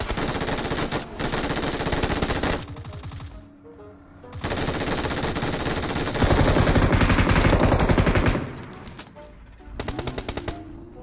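Automatic gunfire in the mobile battle royale game PUBG Mobile comes in long rapid bursts separated by short pauses, loud and dense, with only occasional faint talk underneath.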